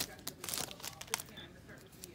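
Foil wrapper of a 2021 Donruss Racing trading card pack being torn open and crumpled, close and crinkly with sharp tearing bursts, while people chat in the background.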